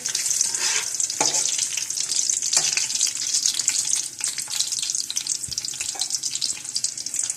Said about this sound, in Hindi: इनको हल्का सा हम ड्राई रोस्ट करेंगे कुकिंग ऑयल में ही।